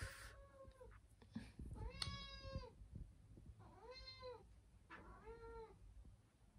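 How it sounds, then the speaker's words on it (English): A female house cat meows repeatedly indoors, four or five drawn-out, rising-and-falling calls spaced across the span, fairly close and clear over a quiet room hum. "Every time I put the camera on it, she has to go in and meow in her head off."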